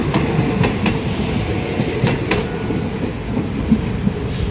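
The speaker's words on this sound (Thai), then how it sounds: "ขบวนสามสี่หนึ่งกรุงเทพแก่งคอย โอ้ ไล่กันมาติด ๆ เลย" A Bangkok–Kaeng Khoi passenger train rushes past on the railway, a continuous rolling rumble with rhythmic wheel clacks over the rail joints, fairly close.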